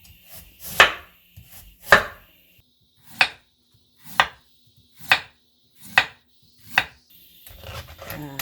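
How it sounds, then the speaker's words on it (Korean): Knife chopping a radish into thick strips on a cutting board, seven crisp, evenly spaced chops rising to loud, close strikes, ending in softer rustling. "이게 채 썰 때보다 살짝 더 굵게 좀 썰어주세요"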